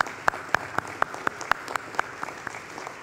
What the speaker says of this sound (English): that is a much-deserved round of applause for Bill Carpenter there